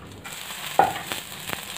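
Rice paratha made from leftover rice, frying on a hot tawa over a low-to-medium gas flame, giving a soft, steady sizzle with a few sharper crackles and pops near the end.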